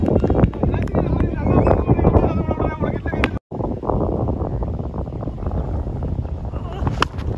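Wind buffeting an outdoor microphone at a village cricket tournament, a steady low rumble running through the clip under a commentator's voice, with a brief dropout near the middle.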